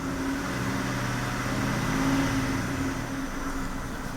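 A 2005 Kia Sorento with its check engine light on and an ignition misfire fault runs close by with a steady mid-range engine hum that swells slightly as it is revved, then settles back.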